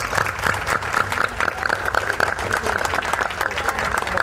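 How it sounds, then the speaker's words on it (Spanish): A steady, loud round of applause fills a municipal council session in Miraflores, a dense crowd of hands clapping continuously throughout without a break. "para quienes pido un fuerte aplauso"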